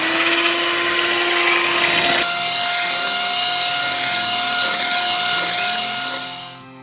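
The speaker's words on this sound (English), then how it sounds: "I'm going to use my little handy dandy hand mixer" An electric hand mixer whirs steadily through a lye soap mixture for a hot-process crock-pot batch, its motor tone dropping partway through and then running evenly until it cuts off at the end.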